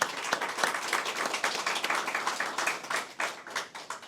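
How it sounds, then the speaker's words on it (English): An audience at a Lions Club centennial celebration claps steadily, a dense run of close hand claps that keeps going with no voices over it. "You all deserve a huge round of applause for your incredible work."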